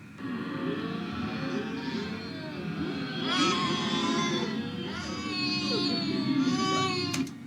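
An eerie, warbling wail made from a processed baby scream for a bat sound in the video game Alan Wake, sustained and shrill with wavering tones over a low rumbling bed.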